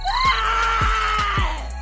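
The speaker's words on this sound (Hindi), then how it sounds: "इतने में बहुत जोर से चीखने की आवाज आती है।" A loud, sustained scream cries out in a Hindi cartoon horror story about a witch, with a few dull low thumps beneath it.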